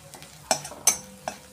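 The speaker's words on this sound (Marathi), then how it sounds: "आता याच्यामध्येच आपण हे आलं लसूणची पेस्ट करून घेतलेली घालणार आहे. थोडंसं परतवून घेणार आहे तेलावर." Ginger garlic paste being sautéed in oil for a bitter gourd (karela) dish, a faint sizzle broken by three or four distinct spoon clinks and scrapes against the pan, close and quiet.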